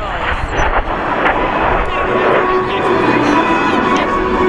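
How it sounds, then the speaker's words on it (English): An A-4 Skyhawk jet streaks past at an air show, a loud, sustained roaring engine whoosh filling the whole moment without a break. "It's back again, fast. The Skyhawk."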